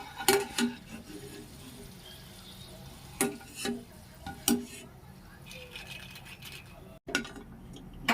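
Potato chips fry in hot oil with a steady soft sizzle, broken by occasional clinks and scrapes of a utensil against the pan.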